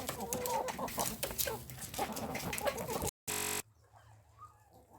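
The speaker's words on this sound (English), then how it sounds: "There is our little white silky in the center of all those chickens" A flock of chickens, among them a small white silkie hen, clucks and murmurs in a busy chorus that ends in a brief buzzing burst and then a quieter stretch.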